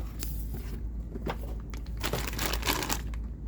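A plastic bag crinkling around an Uberti 1858 revolver with a Millennium finish, close crackling and crumpling in bursts, loudest toward the end.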